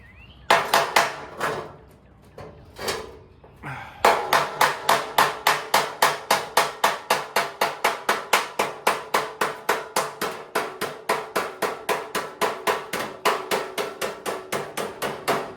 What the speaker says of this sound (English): I have to just beat it with a hammer here first to see how that works for us